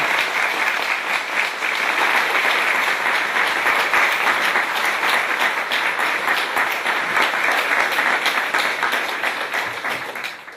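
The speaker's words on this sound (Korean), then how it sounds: "큰 박수로 환영해 주시기 바랍니다." A large audience at a lecture event applauds warmly to welcome guests, with dense, loud, steady clapping that fades slightly at the close.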